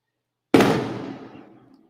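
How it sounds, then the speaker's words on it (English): A single sharp firework bang goes off outside, fairly loud, then decays over about a second into silence. "people are popping fireworks and it's not even July"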